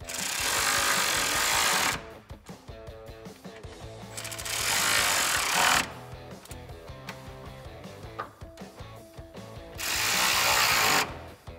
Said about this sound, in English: Go ahead and tighten down the bolts